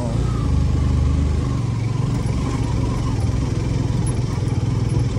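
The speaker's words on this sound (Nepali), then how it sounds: "स्कुटर पनि चलाउनुलाई हुन्छ केही गाह्रै छैन स्कुटर चलाउनु हेर्न सक्नुहुन्छ" A scooter engine drones steadily at close range while riding on the road from Pokhara to Upper Mustang, Nepal, a continuous low rumble with wind noise.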